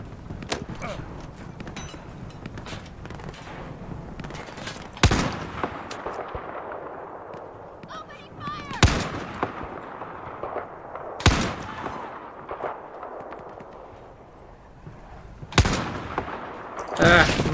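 Gunfire in Battlefield 4 during a battleship mission: sharp, loud shots and bursts crack out every few seconds over a continuous rumbling combat background, with scattered smaller reports between them.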